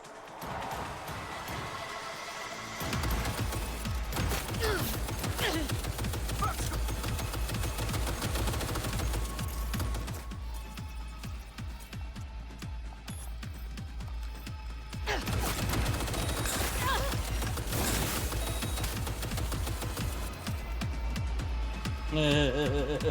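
Machine guns fire in Cyberpunk 2077: dense, sustained rapid gunfire rattles in long stretches, broken by a short lull, against a constant low rumble.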